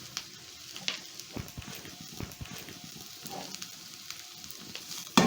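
Fries sizzling in a pan with garlic powder and coriander, a steady crackling fry broken by scattered pops and the clatter of stirring. The sound stays fairly close and moderate, and nobody talks over it.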